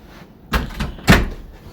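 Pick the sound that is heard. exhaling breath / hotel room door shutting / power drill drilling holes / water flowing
hotel room door shutting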